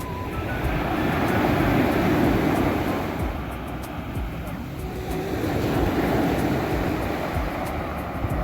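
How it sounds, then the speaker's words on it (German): Turquoise sea at Alanya on the Turkish coast, with waves rushing and washing in a continuous, fairly loud surge that swells and eases over several seconds. "das beruhigende Rauschen der Wellen"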